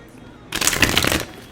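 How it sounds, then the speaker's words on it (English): Oracle cards being shuffled by hand, a dense burst of papery riffling and flicking that starts abruptly, runs for under a second fairly close and loud, then stops. "I'm getting better at shuffling"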